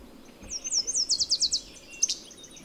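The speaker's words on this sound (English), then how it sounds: "a yellow warbler over there." A yellow warbler sings a quick run of sweet, high notes that rise and tumble, followed by a brief final chirp, moderately loud.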